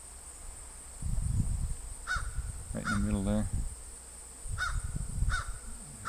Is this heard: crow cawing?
yes